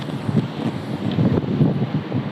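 Strong wind blowing outdoors through trees, a steady rushing roar with gusty swells and buffeting on the microphone, continuous throughout with no talking.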